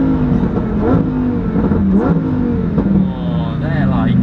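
A Lamborghini Huracan Performante's engine revs and rises in pitch close by, rumbling continuously beneath people talking.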